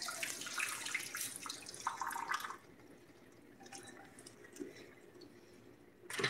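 Water splashes and drains into a kitchen sink as cooked chipped beef is poured off, a hissing flow that drops to faint trickles and drips before another splash.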